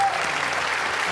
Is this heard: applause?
yes